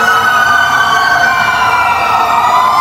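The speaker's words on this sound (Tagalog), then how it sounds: "Grabe, daming bumbero dumaan oh." Loud, continuous fire truck siren wail with a steady rising tone over rumbling traffic noise, close by.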